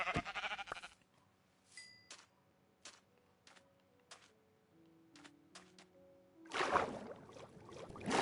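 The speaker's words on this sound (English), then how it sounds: "Oh, and kill the sheep." Sheep bleating in Minecraft, short quiet bleats repeating at irregular intervals over a low ambient background, with louder noisy bursts at the start and end.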